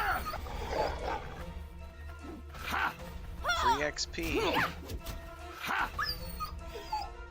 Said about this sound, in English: Realistic dog whining.